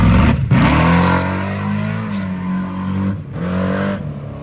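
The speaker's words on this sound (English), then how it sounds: "So I go ahead and do a pretty long burnout and back up on the track" Nitrous drag car with an E85-fueled carbureted engine doing a long burnout on a drag strip, a loud sustained engine roar with steady harmonics, dipping briefly before revving up again, no talk.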